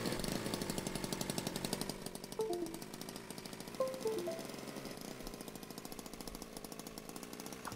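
Loud two-stroke car engine in the driving game Jalopy, a harsh buzzing rattle running steadily throughout, with a few brief electronic tones over it.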